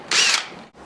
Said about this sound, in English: Use a 3/16 inch bit,